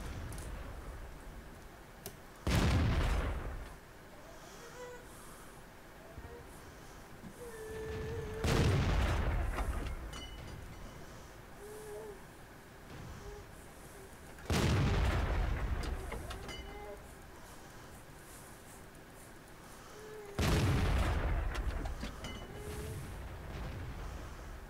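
Artillery shells in a video game fire and burst in four heavy booms spaced several seconds apart, each a sharp loud blast decaying over a quieter low rumble of in-game ambience, with no voices.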